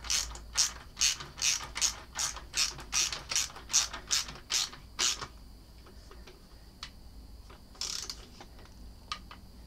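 A ratchet tightens R&G frame slider bolts on a Yamaha R6, a close, rapid series of about a dozen sharp metallic clicks in rhythm, then a few scattered clicks after a pause.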